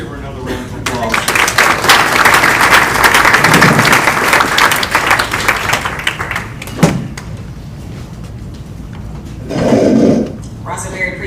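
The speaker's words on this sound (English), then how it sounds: "Let's give her another round of applause." Audience applause at a monthly meeting honoring community members, a sustained round of clapping filling most of the stretch before tapering off, with a brief thud and some murmuring toward the end.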